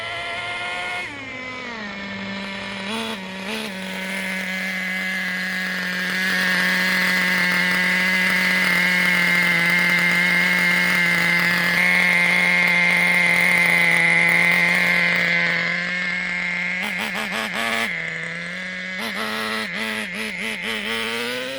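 A Traxxas T-Maxx 2.5 nitro RC truck engine fitted with a Losi 3.4 carburetor, running rich on factory settings, screams steadily at full throttle for a long stretch, with brief revving dips near the start and end. No one speaks.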